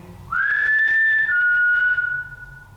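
A single sustained human whistle rises quickly and holds a steady pitch for about two seconds, close and clear, then fades.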